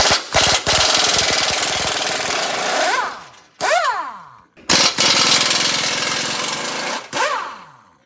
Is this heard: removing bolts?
yes